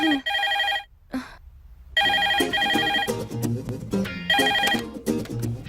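A telephone rings in bursts of a bright, trilling electronic bell, starting, pausing briefly, then resuming in repeated rings over a faint background of other sound.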